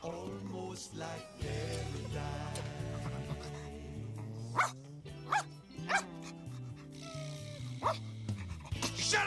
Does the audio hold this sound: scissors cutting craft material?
no